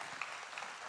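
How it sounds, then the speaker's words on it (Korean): A church congregation applauds during a 16th anniversary worship service, a brief, steady wash of many hands clapping at moderate distance, fairly soft. "우리 박수로 우리 다시 한번 감사를"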